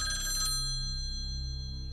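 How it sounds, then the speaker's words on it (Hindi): A telephone rings in a lounge of a home, its bright electronic ring sounding loudly for about half a second before decaying into a sustained hum with no talk over it. "देखो लाउंज में फोन बज रहा है।"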